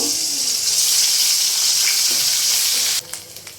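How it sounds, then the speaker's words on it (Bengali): Loud, steady sizzling of a cumin, ginger and garlic spice paste frying in hot oil, a dense hiss that drops away near the end, leaving a few soft clicks. "এই যে আমার পেস্টটা ভাজা হয়ে গেছে অনেকটাই"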